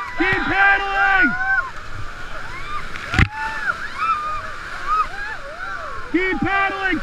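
Paddles dig and splash water as a boat pushes forward through a wave train, rhythmic sloshing under loud, repeated shouted commands from a person nearby.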